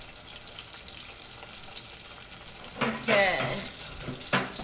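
Gluten- and dairy-free battered churro apple slices deep frying in hot oil, a soft steady sizzle that swells louder near the end, with a brief spoken word over it.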